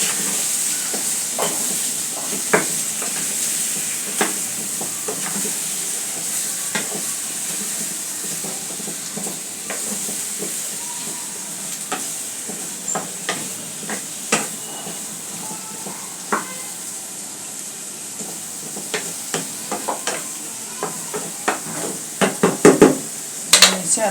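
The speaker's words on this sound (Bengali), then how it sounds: "ভালো করে নেড়ে দেবো।" Pumpkin pieces cook in a frying pan under a low, steady sizzle and hiss, broken by frequent sharp clicks and scrapes of a spoon stirring, growing busier toward the end.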